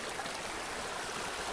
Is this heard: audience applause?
no